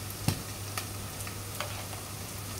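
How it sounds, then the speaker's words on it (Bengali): Whole spices, onion and garlic frying in mustard oil give a soft, steady sizzle, broken by a few light clicks as the pan is stirred. No one speaks. "আমি সব রকমের গোটা মশলা আর পেঁয়াজ রসুনও দিয়ে দিয়েছি, দিয়ে আমি একটু ভেজে নিব।"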